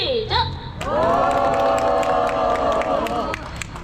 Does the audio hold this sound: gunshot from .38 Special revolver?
no